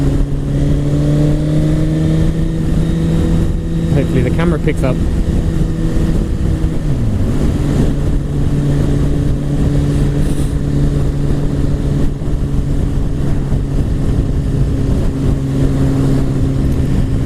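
A 2017 Suzuki GSX-R1000 sport motorcycle revs and accelerates on the road, its loud, steady engine drone rising and falling in pitch through gear changes while a brief voice speaks over it.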